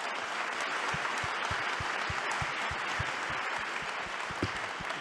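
Audience applause at an open-source tech conference talk, a full, sustained roar of many people clapping with a few sharper individual claps standing out, loud and unbroken.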